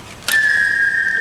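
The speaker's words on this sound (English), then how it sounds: "modifying his arrows to sound like the Japanese whistling arrow called a" A Japanese whistling arrow, or kaburaya, gives a sharp onset followed by a single sustained, clear whistle tone that holds steady and fairly loud for about a second against a quiet background.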